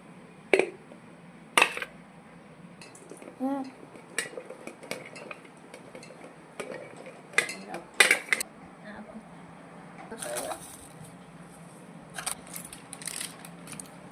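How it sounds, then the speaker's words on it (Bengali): Ingredients are poured into a pressure cooker in a home kitchen, scattered clinks and scrapes of a utensil on metal with soft sliding tumbles, close and quiet over a faint background hum, a voice speaking briefly. "এগুলো আমি সব কুকারে ঢেলে নেব"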